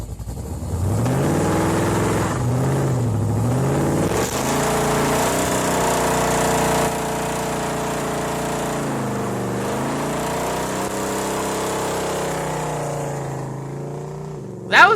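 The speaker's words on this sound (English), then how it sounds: "That was a weak-ass burnout for such a loud car." A loud car does a burnout, its engine revving hard in sustained, wavering roars with rising and falling pitch, close and dominant throughout.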